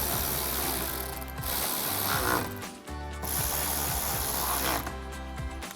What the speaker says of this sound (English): Grab our ratchet, 7mm socket,